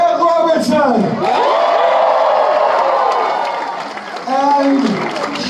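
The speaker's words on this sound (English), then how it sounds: "How about another amazing round of applause for Ed Robertson?" Loud indoor crowd applauding and cheering at a political rally in Milton, Ontario, steady clapping with whoops across the whole stretch while a voice speaks over it.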